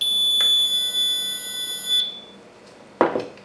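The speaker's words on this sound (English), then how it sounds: "You will hear the beep." A DeWalt portable power station gives a single sustained electronic beep for about two seconds, clear and close, followed by a short click.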